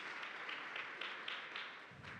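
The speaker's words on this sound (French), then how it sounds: "on peut les applaudir" A conference audience claps after a retail-trends presentation, a faint, distant patter of applause with regular soft clap bursts throughout.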